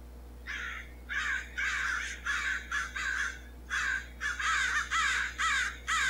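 Crows caw in a video game on a horror-themed island, a series of harsh, evenly spaced calls in short bursts, loud and close, with no voices over them.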